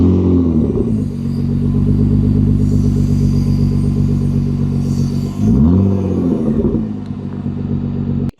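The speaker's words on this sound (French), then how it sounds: "d'abord écoutez-moi ce démarrage" A Nissan GT-R R35 engine cranks and fires into a loud, steady idle rumble up close, dips briefly near the middle and settles again before cutting off abruptly at the end.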